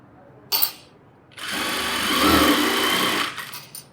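A sewing machine stitches along a fold on a chudithar, a short burst first, then a longer steady whirring run of a couple of seconds, close and fairly loud.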